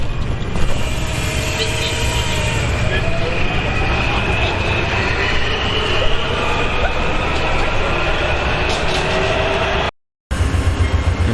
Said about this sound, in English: Now, Amtrak 138 is departing.